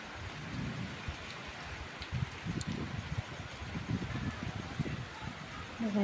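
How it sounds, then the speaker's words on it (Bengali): Rain falling steadily with soft patter and rumbling low noise throughout, fairly faint and distant, with no voices. "বৃষ্টির মজা নিচ্ছি"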